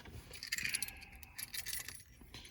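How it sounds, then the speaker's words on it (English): Car keys jangle and clink as they are pulled out of a 2004 Chevy Tahoe Z71 during an aftermarket radio install, a bright metallic rattle of a couple of seconds heard up close with no talking. "Get the keys out."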